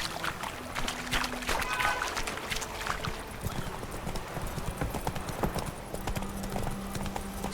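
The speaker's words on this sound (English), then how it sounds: "Run, Roach." A horse galloping in the video game The Witcher 3: steady rhythmic hoofbeats across the whole span, with a soft whinny and game ambience layered underneath.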